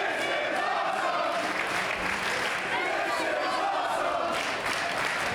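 A South Philadelphia crowd at a Major League Wrestling match roars without letup, a dense wall of cheering and applause that stays loud throughout.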